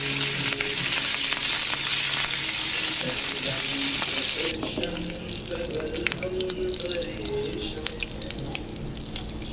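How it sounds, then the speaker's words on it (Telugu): Curry leaves and cashews fry in hot oil for restaurant-style jeera rice, a loud steady broadband sizzle that shifts to a crackling, spattering fry about halfway through, with stirring clinks and a few faint voices underneath. "దోరగా ఫ్రై చేసేసుకుందాం. ఇప్పుడు కరివేపాకు"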